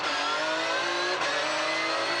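A Porsche GT3 Cup race car pulls away from a rest near a tire wall, its engine note climbing, dipping briefly at a gear change, then rising again loud and close.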